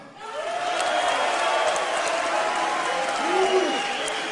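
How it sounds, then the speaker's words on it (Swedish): A kickboxing arena crowd in Stockholm at a K-1 event roars with sustained cheering, and rising whistles and shouts stand out above the din, with a commentator's voice heard over it. "Vi hör publiken här, de ja."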